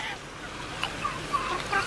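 Ducks at Sterling Pond give a few faint, brief calls over a soft outdoor background, spaced out across the moment with no one talking.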